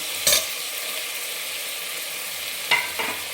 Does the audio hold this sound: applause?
no